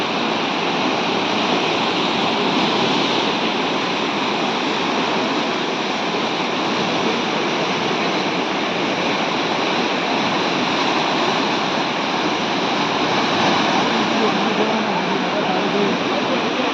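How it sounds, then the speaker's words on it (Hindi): Fast-flowing Bhagirathi river at Devprayag, Uttarakhand, roaring loud and close in a steady, unbroken rush of water that holds the full length without pause. "पानी का शोर आप सुनिए।"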